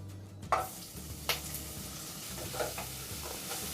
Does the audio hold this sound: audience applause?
no